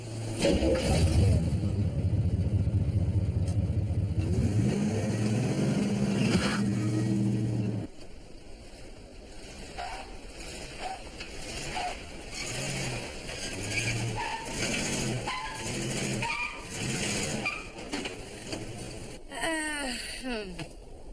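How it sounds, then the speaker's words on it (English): A racing car engine rumbles loud and low for several seconds, then drops away as people talk over a quieter background. "This is a racing car."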